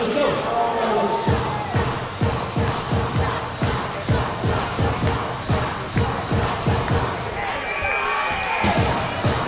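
A sold-out, standing-room-only crowd at an ice hockey game roars in dense, rhythmic chanting and stomping bursts, loud and close, with voices shouting throughout.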